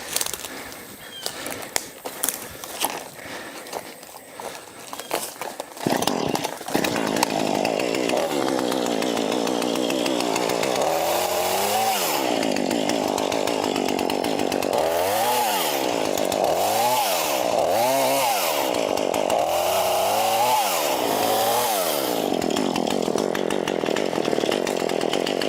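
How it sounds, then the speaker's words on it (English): A chainsaw cuts wood in the woods around a 1974 Ford van, its engine surging and dropping in repeated rising and falling bursts; loud and close, running steadily for most of the stretch after a rougher start. "Guess I'm gonna have to get that chainsaw"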